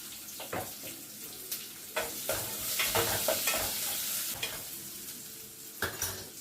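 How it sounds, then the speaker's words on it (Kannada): Black peppercorns frying in a pan for a vegetable palya: a soft, continuous sizzle broken by frequent stirring scrapes, close but fairly quiet, with no speech. "ಮೆಣಸಿನ ಕಾಳು ಇಷ್ಟು ಹಾಕೊಂಡು ಫ್ರೈ ಮಾಡ್ಕೊಳ್ತೀವಿ"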